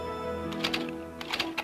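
An IBM Wheelwriter 50 electronic typewriter types in short clusters of crisp, close keystrokes and daisywheel strikes over a steady electronic hum.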